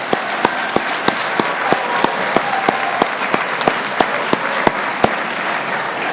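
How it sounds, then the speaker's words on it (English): Graduation audience in an auditorium applauding the mothers present, a sustained round of many hands clapping at an even level, with a few sharper individual claps standing out regularly above the crowd. "let's give our mothers a round of applause real quick."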